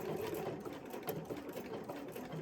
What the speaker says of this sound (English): when I'm going over that really thick seam